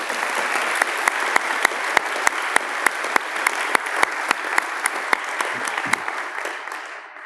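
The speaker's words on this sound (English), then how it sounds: "So can we give them a round of applause?" An audience at an award chapel program claps steadily, a dense, even wash of applause with a few sharper claps standing out, fading away at the end.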